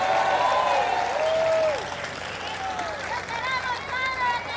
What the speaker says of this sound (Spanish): Fuerte el aplauso para el Padre Luis Toro.